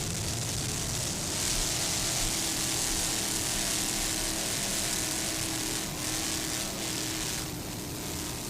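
A 38-foot Fountain powerboat on twin racing engines roars at speed during a powerboat race, a dense continuous engine drone with rushing wind and water.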